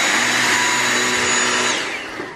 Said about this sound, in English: I think it's called a Dyson Animal. And it's a very accurate name actually, because it's an absolute animal when it comes to hoovering up them crumbs.